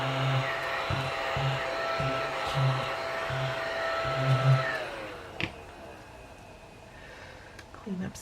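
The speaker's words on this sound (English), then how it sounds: "I'm going to get my little vacuum thingy here because I want to clean up some of the" A small handheld vacuum whirs steadily while cleaning up dust from an art workspace, with short pulsing bursts and a droning motor tone that winds down before switching off, followed by quieter handling noises near the end.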